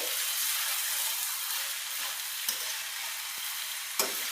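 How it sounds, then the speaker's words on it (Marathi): Cooked rice is stirred and tossed into sautéed vegetables in a hot pan for vegetable pulao, producing a steady, even sizzle with a couple of soft scraping knocks from the spoon, close and continuous, no voices. "आता मी या शिजलेला भात टाकते त्या भाज्यांमध्ये चांगला परतून येते"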